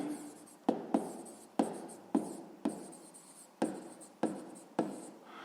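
Pen writing a sixth-grade maths exercise on paper, a series of quick scratchy strokes, each starting with a sharp tap and trailing off, about eight in a row, close and quiet with no talk.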